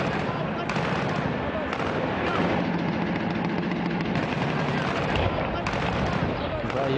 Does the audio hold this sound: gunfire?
yes